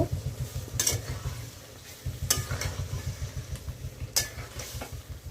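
Marinated chicken with onion paste and a little water stirred in a pan: a low, rhythmic bubbling simmer punctuated by about three sharp spatula clanks against the metal.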